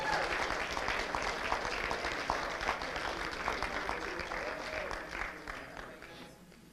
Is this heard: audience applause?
yes